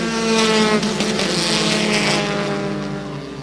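Stock cars roar together around a track in a sustained, loud engine drone with rising and falling pitch as the pack passes, no voices heard.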